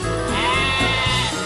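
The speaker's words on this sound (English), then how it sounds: "Some sheep have wandered off from the farm." Sheep bleating in the Thomas and Friends: Magical Tracks video game, a loud close run of repeated wavering bleats heard alone over about a second and a half.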